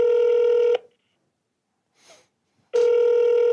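An outgoing telephone call rings on the line: a loud, steady ringback tone sounds, stops for nearly two seconds of near silence with a faint rustle, then starts again.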